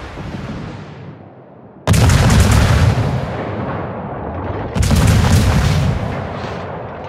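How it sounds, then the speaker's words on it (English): Heavy warship guns in a naval battle game fire at an enemy ship: two loud, booming salvos, each a sharp blast followed by a long rumbling roar, with no talking. "Concentrate fire on the enemy warship"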